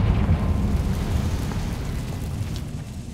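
A Confringo blast spell cast in Hogwarts Legacy, heard as a sustained low rumbling boom that rolls on steadily for a few seconds and slowly eases off.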